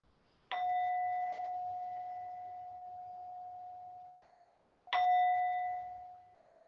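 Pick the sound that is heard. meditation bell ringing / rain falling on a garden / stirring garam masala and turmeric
meditation bell ringing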